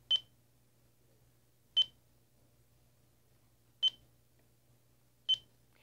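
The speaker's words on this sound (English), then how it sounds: "it'll beep when I hit center." Four short, sharp electronic beeps from a radio transmitter as the throttle hits center sound alone at uneven intervals over a faint low hum.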